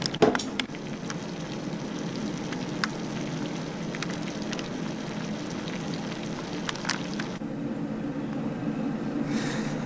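A steady, dense bubbling and crackling of peppers at a rolling boil in a pot, close and continuous, with a few faint clinks in the background.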